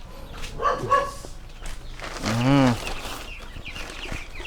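A chicken clucks and squawks in a couple of short bursts nearby, with a dog's bark-like yelp and faint background noise around them.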